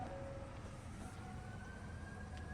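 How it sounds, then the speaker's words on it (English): A faint ambulance siren drifts in the distance beneath steady background rumble at a car wash in Spring, Texas, sustained and wavering without any voices. "Oh, it's an ambulance."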